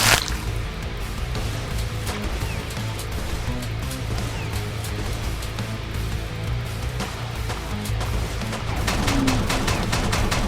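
Gunfire from the rodent shooter War Rats crackles through a dense game mix, scattered sharp shots and rattling bursts layered over steady music and effects, growing busier toward the end.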